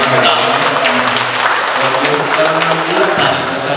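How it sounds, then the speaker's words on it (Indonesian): An audience applauds during a fitness talk, a continuous wash of many hands clapping at once, loud and dense, with some murmuring voices mixed in. "Tepuk tangan dulu dong"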